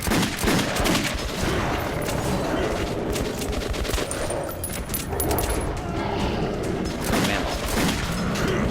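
Gunfire in the video game Metro 2033 Redux comes as dense, sustained bursts of rapid shots with booming impacts, loud and continuous throughout the underground fight.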